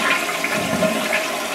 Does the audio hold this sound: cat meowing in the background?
no